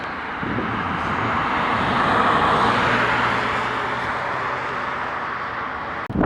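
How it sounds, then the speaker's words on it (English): A TAP Air Portugal Airbus A321 on approach to Dulles airport roars overhead, a broad jet rumble that swells to a peak and then holds loud and steady. "here comes the TAP Air Portugal Airbus A321 in from Lisbon"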